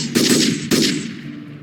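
Two sharp gunfire bursts, about half a second apart, each cracking loud and close before a short decaying echo, with no voices.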